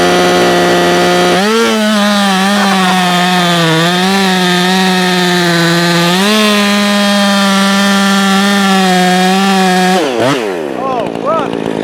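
Ported Husqvarna 359 chainsaw screaming at high RPM, around 14,000, a loud steady harmonic whine that holds for about ten seconds before dropping off sharply near the end.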